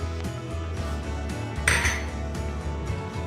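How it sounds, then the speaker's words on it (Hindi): A metal spoon clinks and scrapes against a pot as biryani masala paste of onion, tomato, ginger, garlic, green chilli and yogurt is mixed, with a steady run of close knocks and one brighter clatter midway. "तो इसको अच्छी तरह से मिक्स कर लेंगे ताकि इसमें मिक्स हो जाए।"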